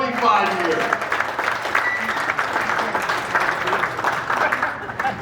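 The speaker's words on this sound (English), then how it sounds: "Round of applause. 25 years." At a high school baseball hall of fame banquet, an audience claps in a full, sustained round of applause that fills the room, with some chatter mixed in.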